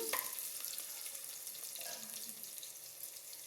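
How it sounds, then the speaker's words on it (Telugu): Chopped onion pieces fry in a pan as a soft, continuous high sizzle with faint crackles and a few light stirring sounds, fairly quiet and close, with no talking. "లైట్ గోధుమ కలరు రావాలి ఉల్లిపాయలు ముక్కలు అలా వస్తే వేగినట్టు"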